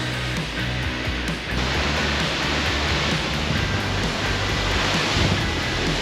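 An Icelandic waterfall roars heavily from very close, standing behind the falling water, a dense continuous rush mixed with buffeting gusts of wind on the microphone. No one speaks over it.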